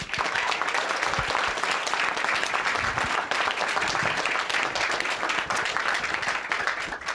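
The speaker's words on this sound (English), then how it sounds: "I just want to give you a round of applause as well" NDP caucus members and staff in Ottawa give a sustained round of applause, a dense, continuous crackle of many hands clapping close by with no break.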